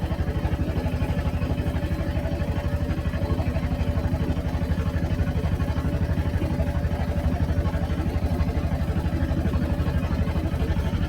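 A houseboat engine runs steadily on a wetland lake, a continuous low mechanical drone with a fast even throb, close and unbroken for the whole stretch.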